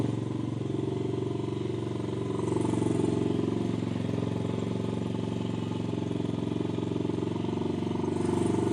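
A Honda XR100 dirt bike with a freshly cleaned carburetor runs at a steady, loud, close idle, its engine chugging evenly the whole time with no voices over it.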